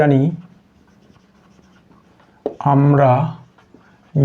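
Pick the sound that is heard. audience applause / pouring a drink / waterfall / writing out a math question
writing out a math question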